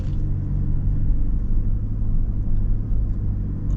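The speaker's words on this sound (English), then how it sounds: "I am attempting to move, and I'm not really making any progress with the Land Cruiser here." Toyota Land Cruiser 250 in four-wheel drive with the center differential locked, straining on an off-road climb: a steady, close low engine rumble that holds level throughout with little change in pitch.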